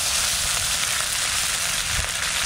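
Country chicken being sautéed and reduced in a pan, giving a steady, close hiss of sizzling with no talk over it.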